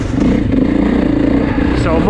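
A 2024 Beta 430 Race Edition motorcycle engine runs loud and close, holding a steady throaty drone with a rising rev near the end, while someone talks over it.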